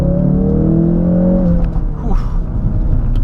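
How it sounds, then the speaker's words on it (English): Engine of a 2016 Ford Focus RS heard from inside the car during a slow multi-point turn, a loud low droning induction hum with a sliding pitch that drops and then steadies. "Mostly you hear the induction noise, not a lot of exhaust note"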